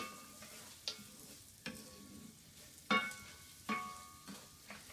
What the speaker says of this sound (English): we're going to stir it up, make sure every little grain gets coated with all the nice butter and oil there